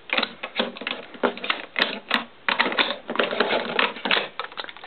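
An airsoft Magpul M4 CQB has a standard snag-type M4 magazine worked at its slightly sticky magazine release, producing a dense string of close, clattering mechanical clicks and knocks with no one speaking.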